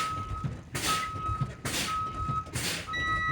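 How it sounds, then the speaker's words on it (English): A steady warning buzzer tone on a bus sounds as brake air pressure is fanned down, running continuously at moderate level while bursts of hissing air from the brake pedal being pumped interrupt it at regular intervals. "the warning light and buzzer should sound off"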